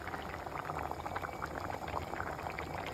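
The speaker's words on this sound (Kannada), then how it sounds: "ಇದನ್ನು ಬಾಯ್ಲ್ ಮಾಡಲಿಕ್ಕೆ ಗ್ಯಾಸ್ ಮೇಲೆ ಇಟ್ಟಾಯಿತು" Okra gravy (bhendi sagle) bubbling as it boils in a pot on a gas stove, a steady dense simmer of small popping bubbles throughout, close and even in level with no talk.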